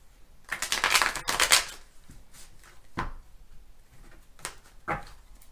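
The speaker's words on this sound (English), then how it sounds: "I'll give this one more shuffle" Gilded Tarot cards riffled in a rapid burst of crisp papery flutter, followed by a few softer taps and slides as the deck is squared, close and fairly quiet with no talking.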